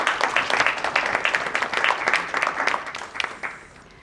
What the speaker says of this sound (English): let us all first give a round of applause for ourselves as a chartered accountant.